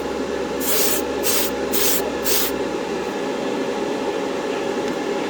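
A spray gun lays a wet coat of paint on a 1968 Corvair trunk lid in four short hissing bursts over a constant background drone, then only the drone remains.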